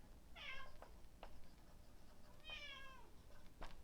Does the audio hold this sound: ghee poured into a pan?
no